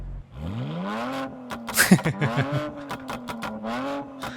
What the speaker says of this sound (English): V8 やっぱ音かっこいいな。